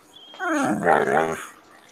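A puppy lets out a single drawn-out, wavering whine of about a second. The cry is close and clear, with no voices.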